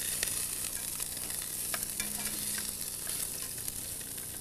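Chicken pieces sizzle in a frying pan while a utensil scrapes the bottom and turns them over, a continuous close hiss broken by short scraping strokes, with no voices.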